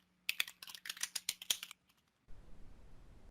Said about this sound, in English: and I will start typing